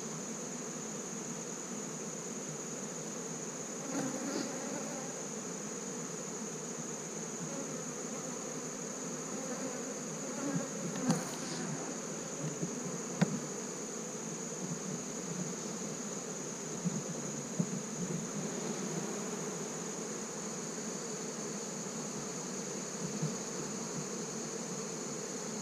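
Honey bees buzz steadily around the frames of an open hive, a continuous drone with occasional closer passes and faint handling sounds.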